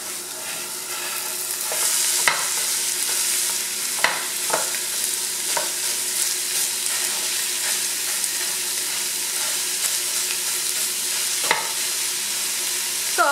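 Ground meat browning in a pan for stuffed pepper soup, a steady dense sizzle running throughout with occasional sharp scrapes and clacks of a utensil stirring, close and fairly loud, no talking.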